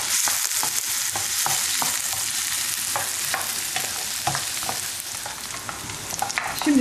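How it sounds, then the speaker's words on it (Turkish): Onion frying in a pan while being stirred, an early step of a Turkish rice börek: steady loud sizzle with repeated scraping and clicking stir strokes throughout, close and without voices. "Artık soğanımızı ilave edebiliriz. Şeffaflaşana kadar kavuruyoruz."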